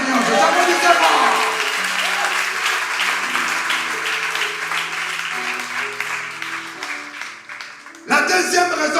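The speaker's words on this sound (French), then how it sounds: "Applaudissez le Seigneur, applaudissez-moi." A church congregation claps loudly and continuously during a French-language worship service, with voices ringing out over the applause; the clapping dips briefly near the end, then surges back in a strong burst.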